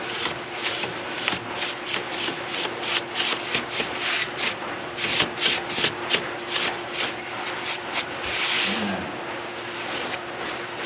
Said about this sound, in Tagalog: Brusin naman natin yan.